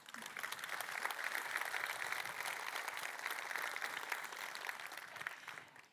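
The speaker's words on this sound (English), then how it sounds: "big applause for Charity" Audience applause at the code.talks 2025 software engineering conference, a steady, fairly faint wash of clapping from a distant crowd that holds evenly and fades away at the end.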